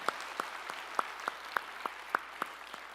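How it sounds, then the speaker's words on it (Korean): About nine slow, evenly spaced claps during a Sunday church service, soft and regular, with a quiet room behind them. "우리에게 찬양의 조건을 주신 주님께 영광의 박수 올리시겠습니다"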